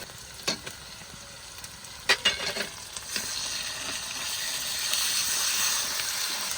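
Onion paste frying in a large wok (kadai), a steady loud sizzle that swells over the clip, with a few sharp stirring scrapes and clatters near the start.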